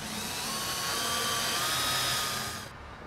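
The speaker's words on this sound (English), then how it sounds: "Now we're gonna drill right down through both of those." A hand-held power drill bores down through a tubing saddle on a Skybolt paramotor frame, whining loudly and steadily for nearly three seconds before the pitch drops as it breaks through and winds down.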